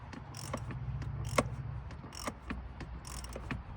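An oil filter being screwed down by hand or with a wrench, a run of soft ratcheting clicks and light mechanical ticks at a steady, uneven rhythm, close by and with no talking.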